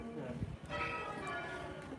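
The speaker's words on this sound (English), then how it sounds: "I could hear bells" Church bells of St Edward's church in Cambridge ring out at a distance, a steady outdoor peal heard under faint street background.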